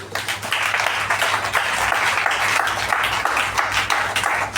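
A congregation in church claps together in dense, sustained applause, loud and continuous throughout with no pauses.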